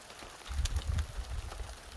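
Rain falls steadily outdoors on a property beside a track during spring ditch maintenance, a soft, continuous patter with low rumbling gusts and no voices.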